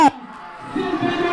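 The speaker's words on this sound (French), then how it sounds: "On applaudit encore une fois pour elle" A parish Christmas crowd at Sainte Bernadette in Port-Bouët swells into cheering and applause for the newly crowned Miss Noël, rising after a brief voice at the start.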